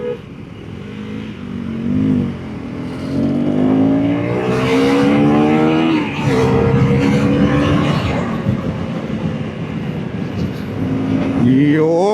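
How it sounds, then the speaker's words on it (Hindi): A 2026 KTM Duke 350 motorcycle accelerates hard through traffic on a road, its engine note climbing steadily through rising revs, loud and close, with a gear change partway and wind rush behind it. "क्या बात है, कैसे खिंचती है बाइक।"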